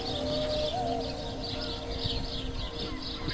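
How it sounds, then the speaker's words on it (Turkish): Birds chirp in short repeated calls beside a riverside bridge in Çanakkale on a snowy winter day, faint song over a steady background hum. "Kuş sesleri için durdum."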